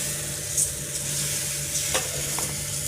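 Wheat flour dosa batter spreading over a hot pan, giving a steady close sizzle and frying hiss throughout, with a few soft scraping touches and no talk.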